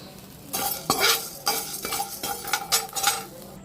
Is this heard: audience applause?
no